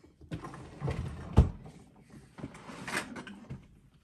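A cluttered drawer is opened and rummaged through: sliding wooden scrapes, a sharp knock, then shuffling and clattering of loose objects in irregular bursts, close and fairly loud, with no voices.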